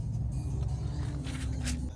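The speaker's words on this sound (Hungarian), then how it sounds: "Egy Perodua Mivit béreltünk." A rented, nearly new Perodua Myvi hatchback drives steadily with a continuous low engine hum and road rumble filling the whole stretch, with no talking.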